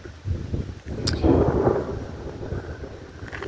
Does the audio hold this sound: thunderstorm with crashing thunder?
yes